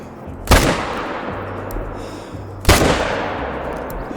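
Two loud rifle shots fired at whitetail deer in the hunting game theHunter: Call of the Wild, each a sharp crack with a rolling tail, about two seconds apart over quiet outdoor ambience.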